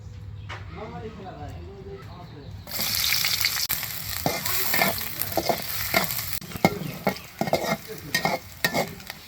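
Green papaya curry frying in a pan with vigorous sizzling that starts abruptly partway through, broken by repeated stirring scrapes and clacks; someone talks quietly before the frying begins.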